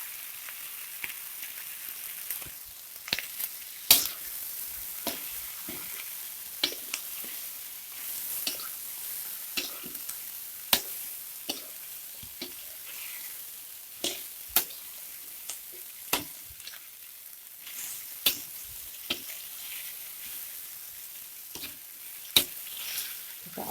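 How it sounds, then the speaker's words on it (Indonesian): Cabbage stir-fried with scrambled egg and chicken gizzard in a pan, giving a soft, steady sizzle broken by scattered sharp clicks and scrapes of a spatula at an uneven pace, with no talking. "Kita aduk sampai kolnya layu sahabat"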